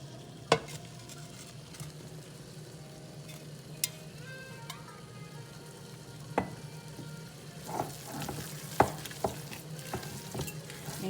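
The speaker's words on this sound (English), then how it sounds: "Mix this up just a little bit more because we want it to be a little bit tighter" Meatloaf mixture with crackers is stirred and mixed by hand, producing soft, scattered wet clicks and knocks at irregular intervals over a faint background hum, growing busier toward the end.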